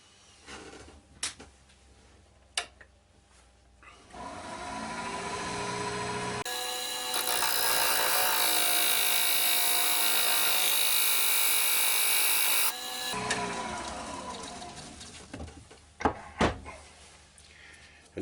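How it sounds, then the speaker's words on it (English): A woodturning tool cuts a groove into the rim of a small ash bowl spinning on a lathe, a steady broadband scraping hiss that builds and holds for several seconds, framed by quieter knocks and handling sounds. "I'm just going to put a little groove just in from the edge"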